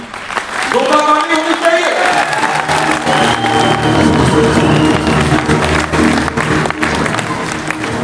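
An audience at a Vestige business event breaks into sustained applause that swells after a short spoken line and carries on steadily, dense and fairly loud, with crowd noise mixed in.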